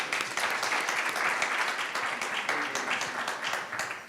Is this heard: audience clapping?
yes